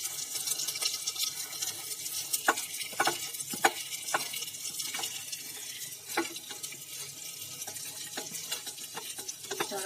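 Ginger garlic paste and mutton frying in a pot, a soft sizzle under intermittent stirring clatters and scrapes, fairly quiet and close, with no talking.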